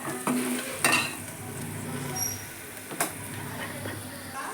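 Chopped onions with turmeric fry in a pan, giving a soft sizzle under intermittent scraping and clinks from a spoon stirring against the metal.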